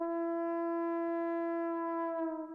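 A second video game horn emote: one long, steady, loud horn tone with a slight pitch wobble near the end, heard alone.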